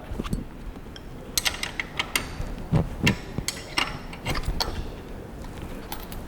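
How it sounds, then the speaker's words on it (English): Axle nuts being unbolted on an Enviolo hub bike wheel: close metallic clicks and ratcheting taps in an irregular rhythm, with scattered clinks of tool against metal. "Then you want to unbolt your axle nuts."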